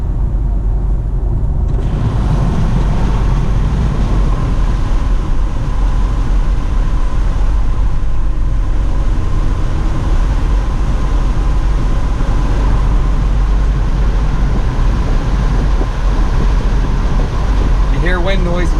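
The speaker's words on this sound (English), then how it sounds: "You hear wind noise more than anything else." Wind roar from open windows of a 2019 Ford Edge ST with a Borla exhaust cruising around 70 mph, a steady loud broadband rush with low rumble filling the whole stretch, no talking.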